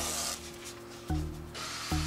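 Abrasive sanding scrapes across the painted floor of a small camper van, a rough rubbing texture with two brief, sharp pauses and low tonal hum beneath.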